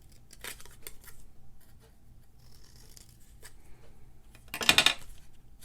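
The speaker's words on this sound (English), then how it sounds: "You're gonna cut all 4 corners." Scissors snip the corners of scrapbook paper in a few quick, close cuts, with one sharper, louder snip near the end of a quiet stretch.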